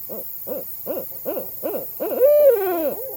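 Barred owl calling: six evenly spaced hoots followed by a long, loud rising and wavering hoot that fades out, heard up close with no voices.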